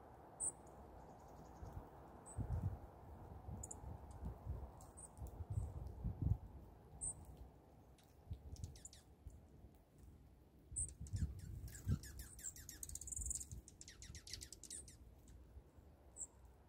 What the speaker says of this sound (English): Song sparrow.